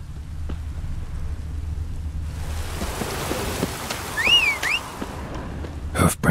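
Rain falls steadily in the video game The Witcher 3, building into a dense hiss with a rumble of thunder and brief birdlike chirps before sharp cracks at the end; no one speaks.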